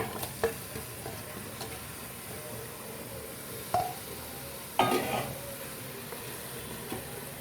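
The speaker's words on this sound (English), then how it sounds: "So I'll be adding the bone meat," Bone meat and tur dal hit a pot of onions cooked until translucent, a faint steady sizzle with a few sharp clanks and clatters as the ingredients go in.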